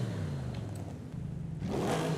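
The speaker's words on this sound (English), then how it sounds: "And this is the stock exhaust." A car on its stock exhaust revs in Forza Horizon 5, a steady mid-pitched engine drone that dips slightly and then rises again, with no speech.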